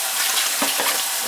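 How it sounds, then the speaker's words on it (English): Water pours into a pot of low-carb vegetable soup, a steady broadband splashing rush lasting the whole moment with a couple of brief gurgles midway. "Put some water in there, some more water."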